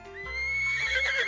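A horse gives a single rising whinny, close and clear, lasting just over a second with nothing else heard.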